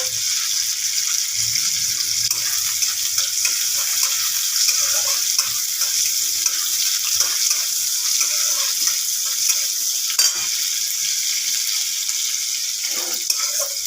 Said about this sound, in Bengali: একদম বেশি কড়া করে ভাজলেও চলবে না, লাল লাল করে ভেজে নিতে হবে।